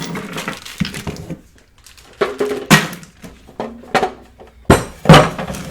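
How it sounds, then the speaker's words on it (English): An oil pan being removed from a filthy, heavily abused GMC 350 V8 engine: scattered metallic clanks, taps and thunks of tools and parts, some sharp and loud, separated by short quiet gaps, with no talking. "let's take the oil pan off"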